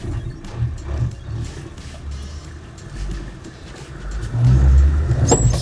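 The diesel engine of a Mercedes G-Wagen W460 250GD labors uphill at minimum throttle on rough terrain, a low steady rumble that grows louder and deeper near the end, with no talking.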